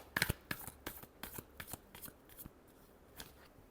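Tarot cards being shuffled by hand, a quick run of crisp riffling flicks and slaps, close and fairly quiet, alone without talk.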